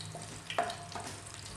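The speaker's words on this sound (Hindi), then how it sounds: "तकरीबन 1 मिनट तक आपने इसको भूनना है" Black cardamom, cinnamon and cumin roasting in a pan give a soft, faint sizzle with one or two light stirring scrapes, close and quiet, with no talk.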